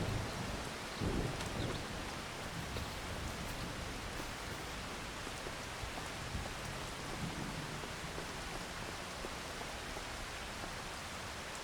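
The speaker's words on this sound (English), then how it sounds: "Now there's some heavy raindrops." Heavy rain falling in the video game Farming Simulator 25, a dense, even hiss of rain on surfaces that holds steady throughout, with a few soft thumps near the start.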